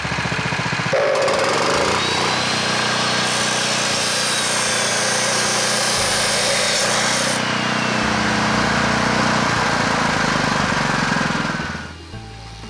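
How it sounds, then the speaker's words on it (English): An angle grinder fitted with a flap disc cleans up steel cleats, making a loud, continuous high-pitched whine and gritty grinding roar that holds steady for about eleven seconds before winding down, with no speech. "I took the time to clean up each cleat with a good flap disc on my grinder."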